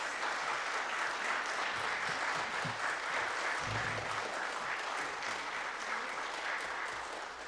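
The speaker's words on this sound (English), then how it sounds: "please give these candidates a round of applause" An audience claps steadily in a dense, even wash of applause that continues throughout without pause.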